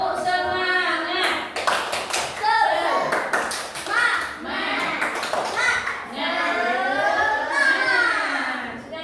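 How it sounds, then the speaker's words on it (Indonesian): A classroom of children performs a rhythmic spirit clap, loud patterned clapping mixed with their shouted chanting voices close by. "Coba tepuk semangat dulu."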